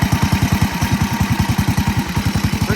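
A warm Massey Ferguson lawn mower engine runs close by with an even, rapid chugging pulse and steady mechanical clatter, with no one speaking.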